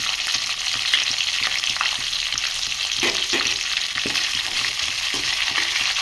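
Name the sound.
chopped onions frying with tempering spices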